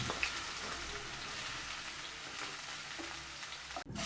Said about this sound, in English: heat the oil in pan, then add cinnamon, biryani flour, chopped onions, and cook this onion